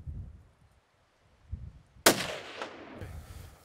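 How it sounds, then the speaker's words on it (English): A single sharp rifle shot cracks out while hunting waterbuck in open African bush, loud and sudden after near silence, followed by a short echoing rumble and faint rustling. "and Willem took a very good shot at the waterbuck now."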